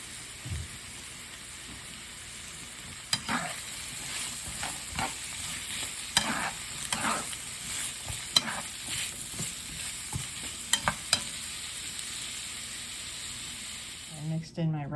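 Chopped onions, mushrooms, peppers and carrots sizzle steadily in a pan, with intermittent sharp scrapes and clacks of a utensil stirring close by; a voice talks faintly at times.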